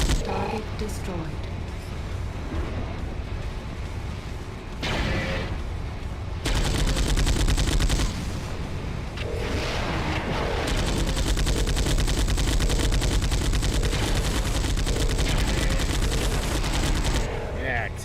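Heavy mech weapons in MechWarrior 4: Mercenaries fire in loud, sustained bursts: dense rapid autocannon-style rattling and booming shots that run almost continuously, with brief gaps. Radio voices speak over the battle.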